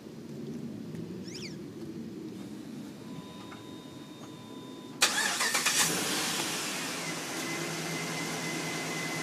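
A 2006-2009 Dodge Ram 2500 with a 5.7 Hemi starts by remote start, first quiet idle and faint chirps, then a sudden crank and catch into a steady rumbling idle nearby.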